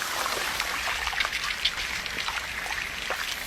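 Steady rain pattering on forest leaves and into growing puddles, a dense continuous hiss with scattered sharper drops and trickles throughout, near and even in level.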